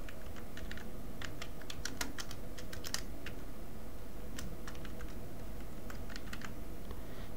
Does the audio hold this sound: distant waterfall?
no